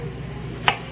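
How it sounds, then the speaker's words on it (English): A single sharp knife chop lands on a cutting board while onions are prepared, a quick crisp knock against a faint kitchen background. "Little break from chopping up onions"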